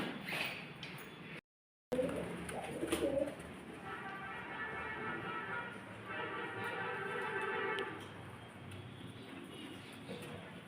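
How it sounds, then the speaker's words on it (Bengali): Pigeons eating wheat, cooing in soft repeated rolling phrases close by, with a brief gap of silence near the start. "দেখো পায়রাগুলো কি সুন্দর গম খাচ্ছে।"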